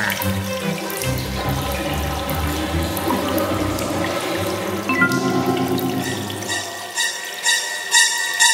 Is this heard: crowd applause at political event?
no